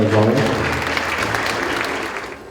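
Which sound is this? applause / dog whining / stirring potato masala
applause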